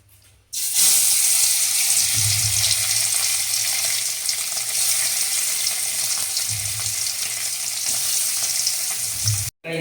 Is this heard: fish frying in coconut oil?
yes